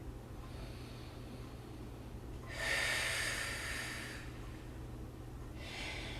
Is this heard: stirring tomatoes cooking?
no